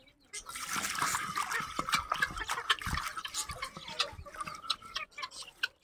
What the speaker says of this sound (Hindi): डाल डाल पानी डाल, थोड़ा सा डाल